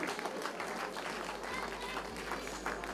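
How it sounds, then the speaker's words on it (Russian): Audience applause at a boxing tournament in Vladikavkaz: a steady wash of clapping from a crowd, dense and continuous for the whole stretch, with no lead voice over it. "Ваши аплодисменты, уважаемые друзья."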